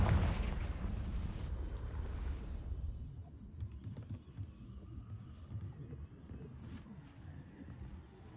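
A Confringo fire curse bursts in Hogwarts Legacy with a loud fiery blast at the start, then fades into crackling rumble and quieter ambient game sounds.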